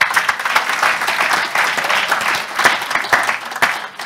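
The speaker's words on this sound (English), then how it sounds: "Final round of applause for them." An audience applauds warmly, a dense patter of many hands clapping steadily and loudly throughout.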